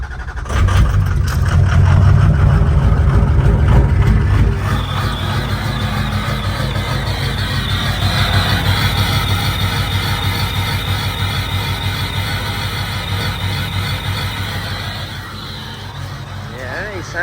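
A 6.0 diesel truck engine idles loudly and roughly up close, running poorly, with a deep uneven rumble and some rattling throughout.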